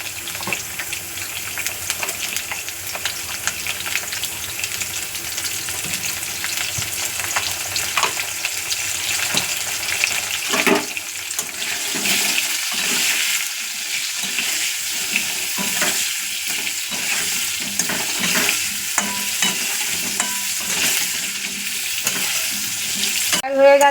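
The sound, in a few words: potatoes frying in oil with salt and turmeric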